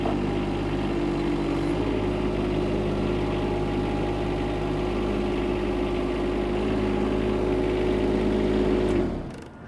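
The small Kubota diesel engine of a Kubota K008-5 mini excavator idles steadily and close by for about nine seconds, then cuts off abruptly near the end. No one speaks over it.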